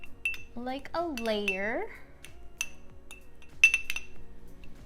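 A spoon clinks against a glass while pressing fruit parfait layers of mango, ube and red bean down. Several bright taps come under a speaking voice.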